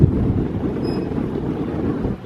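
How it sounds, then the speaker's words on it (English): Strong wind buffeting a microphone at the edge of Bournemouth Pier, a loud, continuous low rumble and roar with gusty texture that eases off only at the very end. "It's very, very breezy. In fact, here's how breezy it is."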